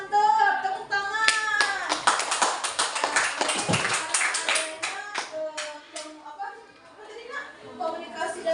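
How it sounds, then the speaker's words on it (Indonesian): A classroom of sixth-grade pupils bursts into brisk clapping, dense and loud at first, then thinning to a few scattered claps as a teacher's voice resumes over it. "Tepuk tangan."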